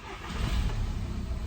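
A VW Golf MK2 diesel engine catches as it is cranked, a short low rumble that swells and settles into a steady idle over about a second and a half, with no voices.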